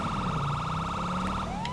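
A police car siren in the video game Grand Theft Auto V wails loudly in a fast, rapid yelp pattern, then sweeps into a rising tone near the end; no voices.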